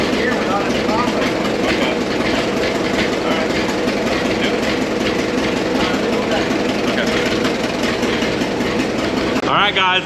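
The engine of a restored centennial Caterpillar tractor runs steadily and loudly at an even, rapid chug, with a brief voice near the end.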